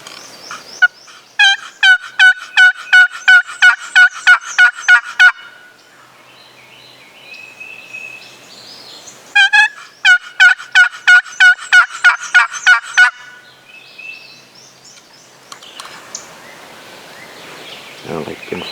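A wild turkey in Georgia woods gobbles in two long rattling bursts of rapid repeated notes, loud and clear, separated by quieter woodland ambience with faint rustling.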